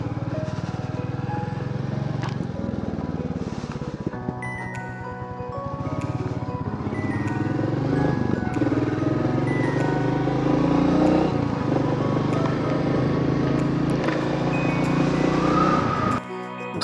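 A motorcycle sets off at the start of a group ride, its engine running loud and close with a steady roar that rises as the bike pulls away, ending in a brief cutoff.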